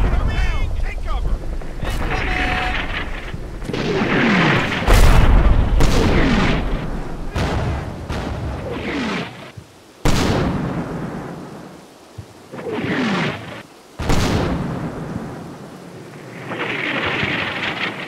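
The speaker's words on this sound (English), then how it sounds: "Looks like the barrage is mostly done, the enemy preparatory barrage" Enemy preparatory artillery barrage in the wargame Combat Mission: Battle for Normandy, heavy booming shell impacts rumbling one after another, loud and close, with rolling explosions and brief pauses between.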